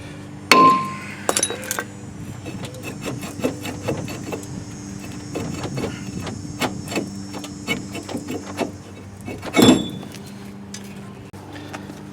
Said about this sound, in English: we'll go ahead and hit the rotor between the studs there,